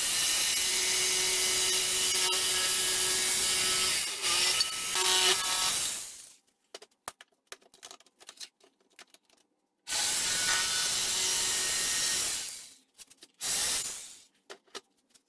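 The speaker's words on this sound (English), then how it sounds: "the next step is to cut it out. And for that, I'm going to be using a jigsaw." A jigsaw cuts out a wooden pumpkin in loud, steady runs of buzzing with tonal whine, stopping and restarting between cuts with quiet clatter and handling noise in the gaps.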